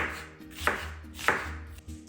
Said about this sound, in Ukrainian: Цибулю нарізаю довільними шматками, досить великими.